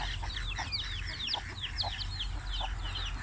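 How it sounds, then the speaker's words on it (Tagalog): Chicks peeping rapidly in high, repeated chirps over low hen clucks, a busy close farmyard sound with steady background noise. "Ayan, mga sisiw."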